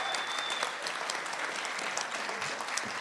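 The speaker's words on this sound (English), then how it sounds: "hope that you will join me in a round of applause" An audience at a chamber of commerce business excellence awards event gives a round of applause for event contributors, dense sustained clapping from a crowd in a hall, steady throughout at moderate level.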